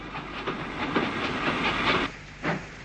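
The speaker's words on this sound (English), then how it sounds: "one of the Ivett-designed 260s, which were known colloquially as the Flying Pigs, passes on another freight" An Ivatt-designed 2-6-0 'Flying Pig' steam locomotive passes with a freight train, giving off loud hissing steam and a run of rhythmic chuffing bursts before a brief drop and one last puff.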